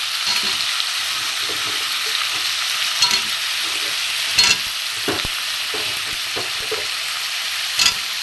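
Small potatoes fry in hot oil, giving a constant close hiss with repeated scraping knocks from stirring and a few sharper clatters of utensil against pan.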